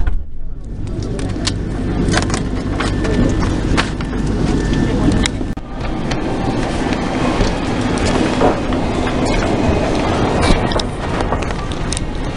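A Rome metro train runs through Policlinico station, a loud, sustained rumble with rattling and clattering of the cars, close and continuous throughout the clip.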